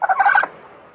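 A turkey or similar fowl gives a short, loud gobbling call in a 4-H poultry show setting, a burst of warbling notes lasting under half a second before fading to quiet.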